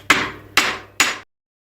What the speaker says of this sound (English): I'm going to give this a few taps on here with my mallet just to loosen it